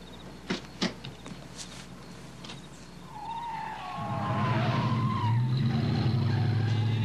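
Car tires skidding and squealing as a car nearly hits another, a long rising screech with engine noise building after a few sharp knocks and thumps.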